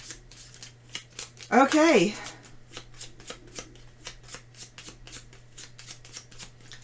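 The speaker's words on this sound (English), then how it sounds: "So these get discarded, and we'll shuffle them up." A deck of playing cards is shuffled during a solo tabletop card game, repeated crisp riffling flicks and taps running close throughout, with a louder burst of card noise and a brief spoken word partway through.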